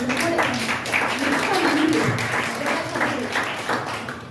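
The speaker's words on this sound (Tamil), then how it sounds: "உங்கள் கரகோஷங்கள் பலமாய் இருக்கிறது" An audience in a Tamil and Sinhala church gathering applauds, with sustained clapping that swells and fades under a speaking voice.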